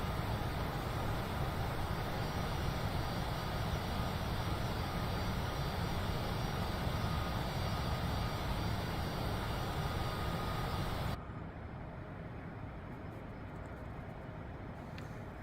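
A Cessna Citation CJ4 jet climbing in Microsoft Flight Simulator, heard as a steady, even engine roar that drops abruptly to a quieter drone near the end.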